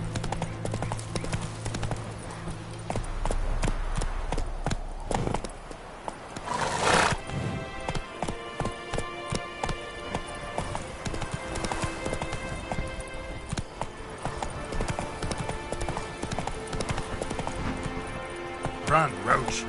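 The horse Roach gallops in The Witcher 3, with steady rhythmic hoofbeats, a loud whinny partway through, and game action and music around them.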